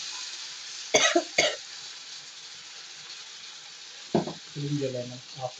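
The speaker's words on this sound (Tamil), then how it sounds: "ஸோ இப்போ வந்து இது எல்லாத்தையும் போட்டு நல்லா வதக்கணும் மசாலாவை." Masala with yogurt and lemon is sautéed in oil for Ambur mutton biryani, giving a faint, soft sizzle broken by a couple of sharp spoon clinks and brief stirring.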